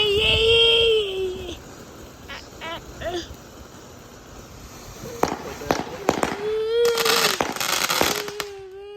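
Fourth of July fireworks crackle and pop in rapid, loud bursts through the second half, following quieter moments with people talking and a child whimpering nearby.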